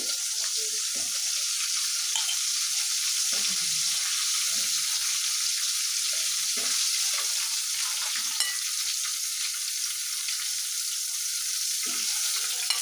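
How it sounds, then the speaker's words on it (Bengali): Katla fish frying in a pan of hot oil, a dense continuous hiss and crackle heard close up, steady and fairly loud for the whole stretch with no voices. "এভাবে করে আমি খুব সুন্দর করে মাছগুলো ভেজে নিচ্ছি।"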